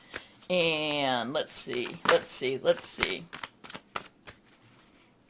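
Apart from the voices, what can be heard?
drawing a card from an Angel tarot deck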